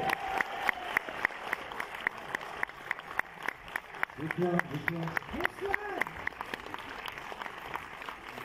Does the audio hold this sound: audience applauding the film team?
yes